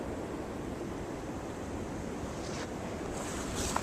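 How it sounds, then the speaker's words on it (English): Blizzard wind roaring steadily and close to the microphone, a continuous broadband whoosh that strengthens slightly toward the end, blowing snow with no voices. "It's really windy out. Here comes the wind."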